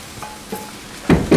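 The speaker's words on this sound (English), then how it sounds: "scrape all that loveliness off the bottom of the pan" Metal utensil scraping meat residue off the bottom of a pan while cooking with pimento and marinade on a homestead: a few brief faint scrapes, then two louder, firmer scrapes close by near the end.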